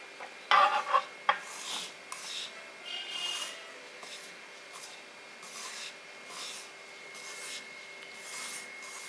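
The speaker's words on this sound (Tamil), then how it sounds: "இப்போ இந்த கரண்டி எடுத்துகிட்டு நம்ம கையால் கொஞ்சம் எல்லாம் ஒன்று சேர்த்து பிணைஞ்சிக்கலாம்" Urad dal ball mixture being mixed and bound together with a spoon and by hand, giving soft rubbing and scraping sounds. A few sharper clinks come early, then steady quiet stirring continues throughout with no talk.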